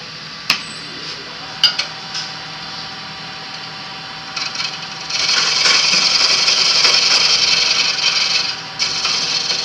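A gouge cuts a thin wooden pedestal dish on a lathe at a woodturning club demonstration. A few sharp ticks come first, then a steady rough rasping cut swells loudly midway, heard close up.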